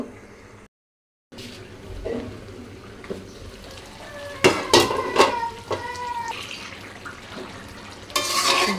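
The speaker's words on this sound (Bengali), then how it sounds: "এখন কিছুক্ষণ দুন্দুলটাকে কষায় নিব" Sponge gourd is stir-fried in a pan, with a spatula scraping and clinking against the metal over a soft sizzle, the strokes coming in irregular close bursts.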